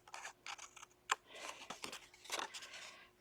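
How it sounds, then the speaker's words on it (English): Scissors snip through the loose hanging edges of a cardstock sketch card, giving a handful of short, crisp close-up cuts with one sharper clip near the middle, all fairly quiet and without any talking. "I am going to take my scissors and just cut off"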